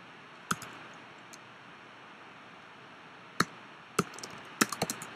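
File-name entry on a computer keyboard comes through as a few sparse, sharp key clicks spaced apart over a quiet hiss, ending in a short quick cluster of taps.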